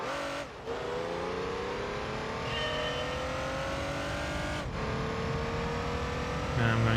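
A race car engine in Gran Turismo 3 during a license test, droning at high revs with a steady rising pitch and two sharp gear-shift drops, loud and close throughout.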